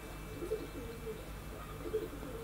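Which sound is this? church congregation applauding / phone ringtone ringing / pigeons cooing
pigeons cooing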